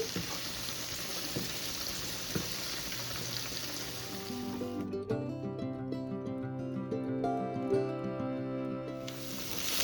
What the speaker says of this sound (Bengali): তো এটা ভালো করে ভাজা ভাজা করে নিচ্ছি